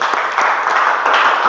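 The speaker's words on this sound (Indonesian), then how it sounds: "Tepuk tangan dulu untuk teman kalian." Classroom applause for a student who answered correctly, a short burst of many hands clapping close by, steady and dense for its whole length.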